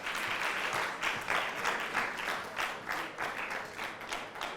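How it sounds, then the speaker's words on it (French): Audience at an a cappella singing competition claps steadily after a performance, a fairly faint, even wash of applause with slight surges, heard from a distance. "Merci d'applaudir, s'il vous plaît."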